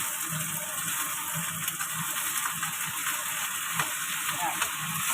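Shrimp shells frying in a hot pan give a steady, close, crackling sizzle that runs unbroken throughout, with no talk over it.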